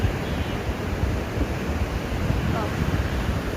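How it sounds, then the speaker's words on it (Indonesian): Large ocean waves at Kuta Beach, Bali, a constant broad wash of surf mixed with wind buffeting the microphone. "Seperti biasa ombaknya lagi gede."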